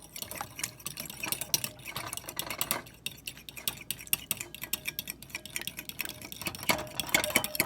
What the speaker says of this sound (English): And then you're going to whisk it.